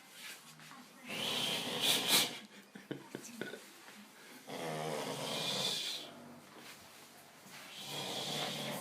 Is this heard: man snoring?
yes